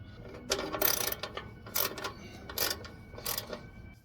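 A hand ratchet snugs down the light mount bolts on an ARB bumper, giving several short bursts of clicking pawl in uneven strokes, close and moderately loud.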